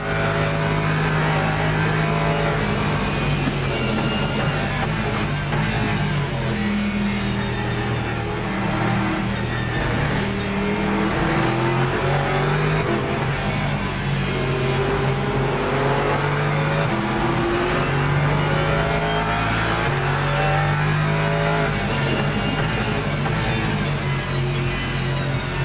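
A Ford race car engine roaring continuously in the Le Mans Ultimate racing game during a rainy race, loud and steady with rising and falling revs and gear changes.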